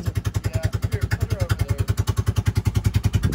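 A golf cart's small engine with a straight-pipe exhaust running loud and raw with a rapid, steady popping exhaust pulse, close by, with no muffling to soften the rattle.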